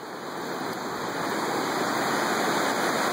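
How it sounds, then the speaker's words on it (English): A river flowing beside a road cut, heard as a steady, close, broadband rush of water that holds constant and fills the whole clip with no voices. "the river's right here."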